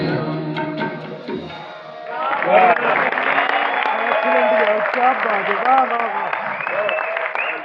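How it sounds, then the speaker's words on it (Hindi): Sustained audience applause at a ghazal concert swells after a brief opening of singing and keeps going steadily, loud and dense, with a voice faintly underneath. "भरपूर तालियां होनी चाहिए"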